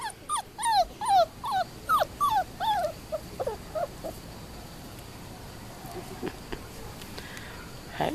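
Several puppies whimper and yip in a quick run of high, rising cries close by. They thin out after about four seconds, leaving faint scattered whines over low background noise.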